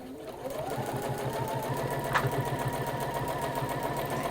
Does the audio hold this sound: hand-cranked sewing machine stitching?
yes